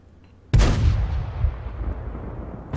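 A single heavy tank cannon blast in a tank battle video game, aimed at a Ferdinand tank destroyer, booms loudly after a brief quiet lead-in and rolls away into a long rumbling decay.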